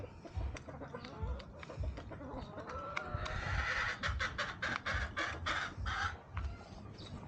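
A Boston Gold gamefowl rooster clucks in a run of quick, close, bright calls that grows denser toward the end, over a low rumbling background.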